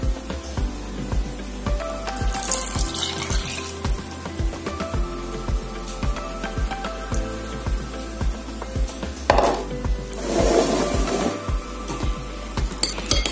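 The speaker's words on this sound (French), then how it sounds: "Je vais donc verser ça dans le gombo que je vais" Rock salt water poured into chopped okra and mixed by hand in a bowl, with wet clinks, taps and squelchy stirring sounds in an irregular rhythm, close and moderately loud, with no voices.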